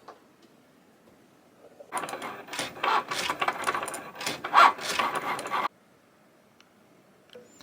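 A Cricut cutting machine runs a cut, with about four seconds of close mechanical whirring and scraping of a blade carriage moving back and forth, then it stops and leaves near silence.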